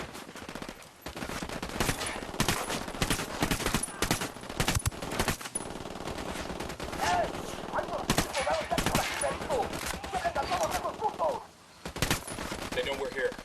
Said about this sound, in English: Firing.